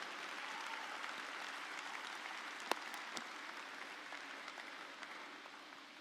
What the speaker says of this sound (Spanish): Si va a darle el aplauso, déselo fuerte